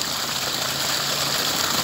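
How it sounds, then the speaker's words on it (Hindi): Water gushes from a solar-powered tube well in a village near Drigh Bala, a steady, loud, continuous rush with no pauses and no voices. "देखो ये पानी निकल रहा है, कितना साफ शफाफ पानी है,"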